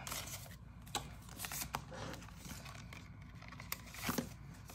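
Paper cash bills slipped into a paper budget envelope during cash stuffing give soft rustles, brushing slides and a few crisp paper flicks, close and quiet, with no talking.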